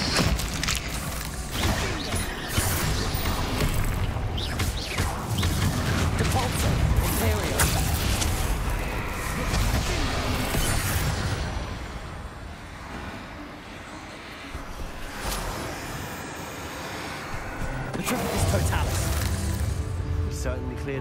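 Explosive Bombarda spell blasts from Hogwarts Legacy, a dense run of loud booms, crashes and gunfire-like bursts with clattering debris, layered with game music and a spoken voice over about twenty seconds.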